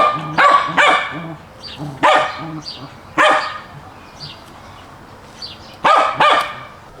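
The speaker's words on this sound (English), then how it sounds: "This one dog wants to play fetch." An eager dog barks repeatedly up close while wanting to play fetch outside in the evening, with loud single and double barks spaced irregularly over about seven seconds.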